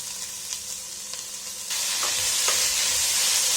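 Cut carrot, beans and potato fry in spiced onion masala for a Kerala-style vegetable curry, with light stirring at first, then a loud, continuous sizzle that swells up partway through.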